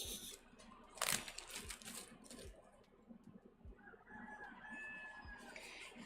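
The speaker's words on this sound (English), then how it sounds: "You might be able to hear the rooster in the background." Rooster crowing and hens clucking outside an art shed on a farm, faint and distant, heard alone behind quiet indoor work noises.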